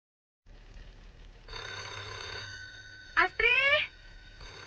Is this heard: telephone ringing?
yes